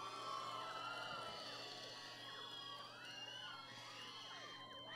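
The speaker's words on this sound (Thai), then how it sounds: "ปรบมือและส่งเสียงนี้กองเชียร์เบอร์สามนะครับ" Outdoor crowd at a Thai political election rally for candidate number 3 in Lak Si–Chatuchak, Bangkok, cheering, whooping and shouting continuously at steady loudness, with scattered high shrieks over a dense crowd din.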